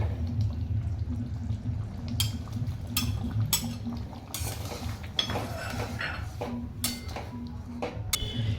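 Paneer goes into a simmering matar gravy and gets stirred, with wet plops and repeated spoon scrapes and clinks against the pan over a steady low kitchen hum.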